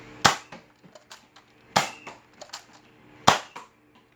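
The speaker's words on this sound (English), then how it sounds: "Let's get some shots downrange, I guess." Three sharp, loud shots from the Mega Hammershot sidearm in a video game, spaced about 1.5 seconds apart, each followed by short mechanical clicks and echoes, with no talk.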